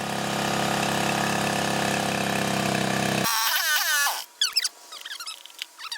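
A Honda 2hp outboard motor with a freshly cleaned carburetor runs with a steady, buzzing drone for about three seconds, then cuts off abruptly, followed by a few high-pitched squeaks.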